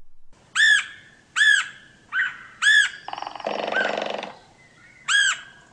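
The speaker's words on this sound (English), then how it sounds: "The red-headed woodpecker's voice is a high-pitched, excited-sounding queer or quia." A red-headed woodpecker gives loud, high, repeated squawking calls, about five spaced a second apart, with a harsher rattling burst in between.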